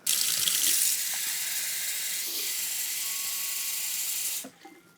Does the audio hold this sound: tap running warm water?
yes